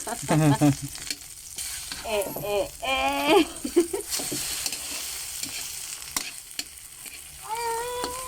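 Scrambled egg sizzles and fries in a pan while a utensil stirs and scrapes it, the frying steady beneath frequent nearby talking.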